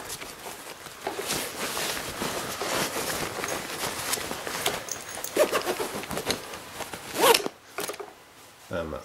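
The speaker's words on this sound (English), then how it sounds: "zip her up" Zipper pulled shut on a Kirby G4 vacuum cleaner's cloth bag, a scratchy rasping run of several quick strokes up close, with a few louder tugs near the end.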